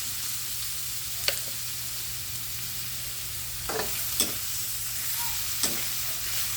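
Garlic and red onion sizzle steadily in a pan on low heat, with a few brief scraping strokes of stirring standing out over the even frying hiss.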